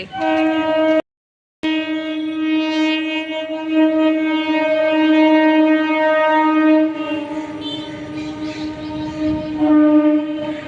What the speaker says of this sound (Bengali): ট্রেন যাচ্ছে, ট্রেন আমাদের এখান থেকে স্টেশন কত কাছে তোমাদেরকে আমি দেখাই